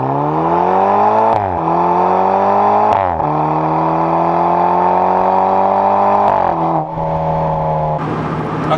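A BMW Z4 2.8 sports car with a four-outlet Akrapovič exhaust revs loudly and steadily with a deep exhaust drone, pitch climbing in several pulls with brief drops between, close up.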